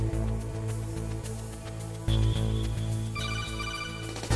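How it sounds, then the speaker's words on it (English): Codec call ringing in Metal Gear Solid, a repeating electronic ring tone with a beeping higher chirp joining partway, loud and steady over low game music, no talking. "Now we gotta take this call."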